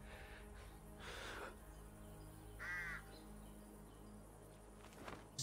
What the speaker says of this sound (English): Good touch with the bird in the background.